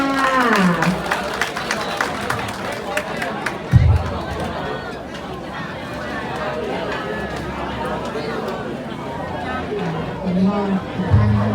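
Applause rises for the bride's parents at a Thai wedding in Nonthaburi, blending with steady crowd chatter and babble throughout, with a few louder thumps near the start and end.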